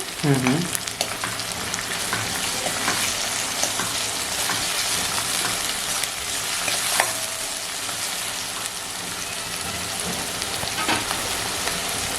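Tomato fries in a pan with curry leaves for a drumstick masala, a steady close sizzle with occasional stirring scrapes and no talk.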